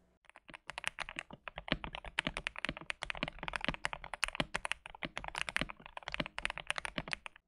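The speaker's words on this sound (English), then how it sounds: "Today I will show you how to transform your KBD67 lite from its default sound" Rapid typing on a stock KBD67 Lite mechanical keyboard, a steady stream of close, crisp key clicks and clacks with no voices.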